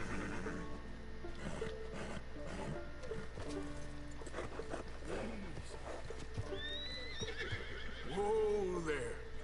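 A horse gives a loud, wavering neigh near the end, after several seconds of low movement and scattered hoof sounds close by.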